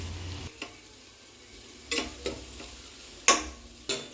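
Masala for veg biryani is stirred in a pan, giving a low sizzle broken by several sharp spoon scrapes and knocks against the pan at irregular intervals.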